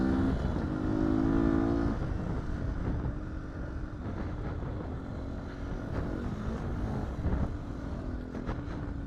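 A 2019 Beta 125 RR-S two-stroke dirt bike revs on a trail, engine buzzing and rising briefly near the start then burbling unevenly at moderate volume under wind noise.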